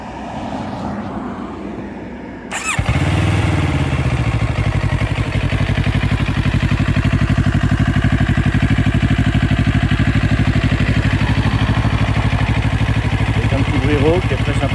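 A Moto Morini Calibro Bagger 700 motorcycle starts after a short lull and then idles in neutral with a steady, loud, even rumble that stays constant to the end, close up.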